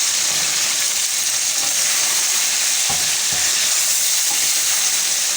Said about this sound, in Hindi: चिकन को हम उस टाइम तक यहाँ पे फ्राई करेंगे जब तक कि इसका कलर